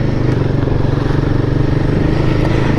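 A Royal Enfield Guerrilla 450 motorcycle's engine thrums loud and close at low revs with a steady rapid pulsing beat and rumbling wind-like roar throughout, no pronounced rise in pitch.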